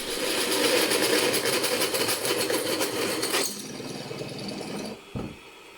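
A small drill runs loud and steady in a garage workshop during a 4x6 bandsaw table modification, then drops in pitch, winds down and stops.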